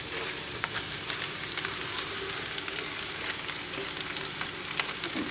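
Spinach frying in a pan, an even, fairly quiet sizzling hiss with faint crackles and occasional small pops, steady throughout with no talking.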